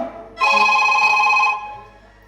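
A mobile phone rings once, close by, with a loud electronic ringtone that starts abruptly, holds for about a second and then fades out.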